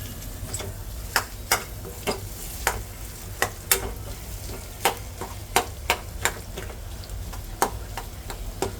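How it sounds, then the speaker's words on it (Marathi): Potato bhaji cooks in a pan with a steady low sizzle, punctuated by frequent sharp clicks and taps of a spoon stirring against the pan, close and fairly quiet with no talking. "आपली ही बटाट्याची भाजी एकदम छान बनलेली आहे. म्हणजे थोडं अजून तिला शिजवायचं आहे."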